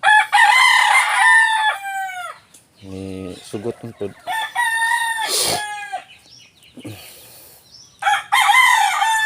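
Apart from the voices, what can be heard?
rooster crowing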